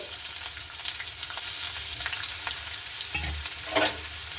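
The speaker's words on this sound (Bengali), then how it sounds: "পেঁয়াজ কুচিটাকে একটু ভালো করে নাড়াচাড়া করে নেব" Chopped onion sizzles steadily in mustard oil for a chicken momo filling, with a dense, continuous frying hiss. A few stirring scrapes can be heard close by, and no one talks.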